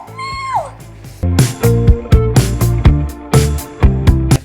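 A cat meows loudly and close, one drawn-out cry first, then a string of repeated calls over a steady rhythmic musical backing.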